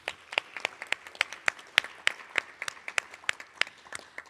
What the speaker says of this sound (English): let's give all of you a round of applause for your accomplishments